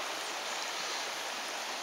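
The Sioule, a river running through a gorge, flows in a steady broadband rush of water, close and continuous with no voices over it.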